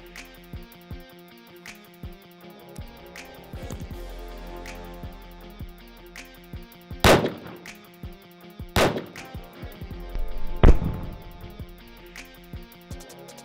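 .223 Trident rounds fired into a block of ballistic gel and meat, several sharp loud rifle cracks spaced a couple of seconds apart with lighter clicks and handling noise between shots.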